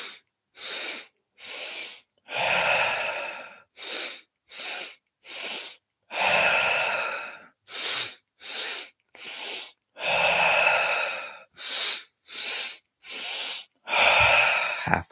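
Deep breathing exercise during a morning meditation session: a long run of forceful exhales and sharp nasal breaths, short bursts alternating with longer drawn-out ones in a steady rhythm, close and clear with no talk.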